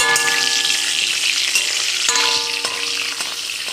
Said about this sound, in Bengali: এখানে কিন্তু রান্না বসিয়ে দিয়েছি ভাজাভুজি শুরু করে দিয়েছি